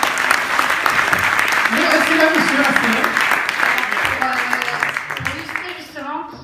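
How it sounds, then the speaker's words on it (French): A conference audience at a green IT day event gives sustained applause, a dense wash of clapping that fades toward the end while someone speaks over it. "Merci beaucoup messieurs, on peut les applaudir."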